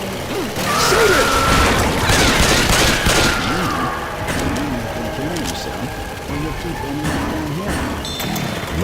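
Repeated bursts of gunfire from the video game Left 4 Dead 2 on the Swamp Fever level rattle close and loud, with players talking over the shooting.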